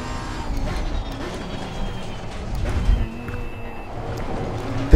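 Race car engine in the Assetto Corsa Competizione racing game at the narrow Oulton Park circuit, a steady loud drone with shifting pitch through corners and a sharp thump at the end.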